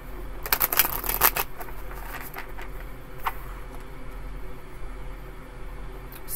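Tarot cards are shuffled by hand up close, a burst of quick riffling flutters near the start followed by softer, continuous papery rustling at low volume.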